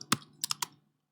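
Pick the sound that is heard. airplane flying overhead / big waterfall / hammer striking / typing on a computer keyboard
typing on a computer keyboard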